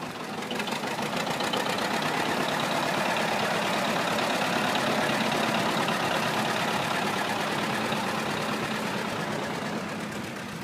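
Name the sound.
gas pony engine warming up diesel tractor engine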